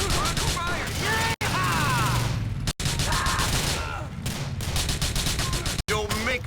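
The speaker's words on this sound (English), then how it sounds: "We're under fire!" Gunfire in the video game GTA IV: The Lost and Damned rattles in bursts and single loud cracks, mixed with shouting voices and a busy game soundscape.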